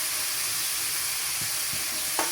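Potato and grated carrot frying with spices in a pan for rolls, a constant close sizzle and hiss with a couple of faint stirring knocks near the end.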